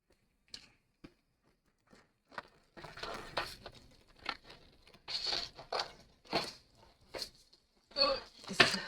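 Intermittent snips and crinkling as glitter paper is cut with scissors, close and fairly quiet, in irregular bursts separated by short pauses.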